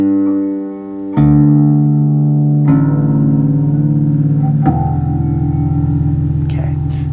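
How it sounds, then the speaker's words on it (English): Deep open strings of an OB660 carbon fiber acoustic bass guitar ring out one after another, each plucked note sustaining and overlapping as the next begins, clear and resonant. "Open string sounds, let's hear."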